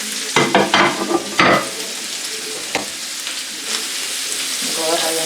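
Cajun shrimp and sausage sizzle and fry in a pan, a steady bright crackle with a few louder bursts early on as the pieces are stirred and spread apart.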